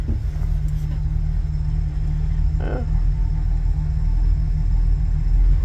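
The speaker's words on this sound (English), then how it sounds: "we'll put it down to a regular idle here, see if it'll idle for me" A 1971 350 MerCruiser boat engine with a new water pump idles low with a constant rumbling drone throughout, with a brief faint rattle partway through.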